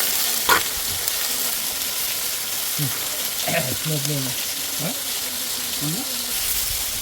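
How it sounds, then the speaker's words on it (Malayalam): Fenugreek seeds splutter in hot oil under a steady hiss, with sharp pops, while voices talk over the frying. "ആദ്യം നമ്മൾ ഉലുവ പൊട്ടിക്കും"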